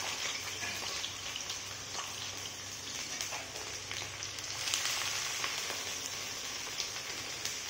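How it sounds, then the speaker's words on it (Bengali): Onion goes into hot oil beside frying meat, giving a steady, close hiss and sizzle with a faint crackle that swells briefly midway. "এখন সেখানে পেঁয়াজ দেব।"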